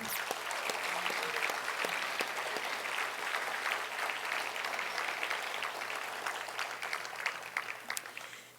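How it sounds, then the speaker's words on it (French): Audience applause at a benefit dinner, a steady, moderately distant wash of many hands clapping that holds for several seconds before thinning out at the end. "Ça mérite effectivement une main d'applaudissement."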